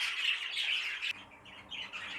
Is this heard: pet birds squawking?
yes